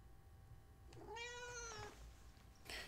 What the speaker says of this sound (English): Kitty cat, really?